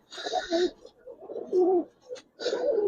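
Giribaz and coloring pigeons cooing close by in a loft in a few short, throaty bursts with brief pauses between them, no talking.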